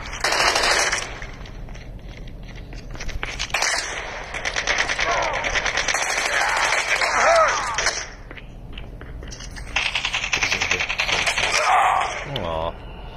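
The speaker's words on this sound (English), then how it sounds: "I like this gun, AK-117. It's nice and accurate." Automatic fire from an AK-117 assault rifle in COD Mobile, with loud, rapid bursts repeating across the span, broken by short pauses and layered over game noise.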